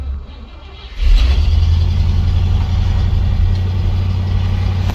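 A 1971 Chevrolet C60 fire truck engine turns over and catches after a second of quiet, then settles into a loud, close, steady low rumble.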